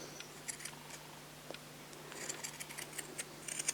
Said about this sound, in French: je prends des ciseaux crantés et je vais venir découper